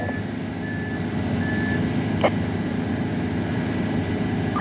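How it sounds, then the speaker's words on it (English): Reversing alarm on a cement truck at a concrete slab pour on a foggy early morning: a few widely spaced beeps, fairly distant, over a constant engine rumble. "Just another cement truck right there."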